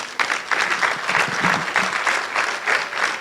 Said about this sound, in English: So I'd like for you to give a big hand of applause to Professor Acheampong.